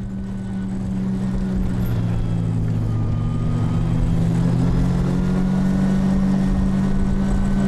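A 100-horsepower snowmobile carries an injured skier to a ski-resort rescue station, its engine a steady, loud, continuous drone that swells slightly after the first second and holds without pause.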